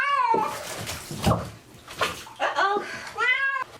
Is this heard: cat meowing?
yes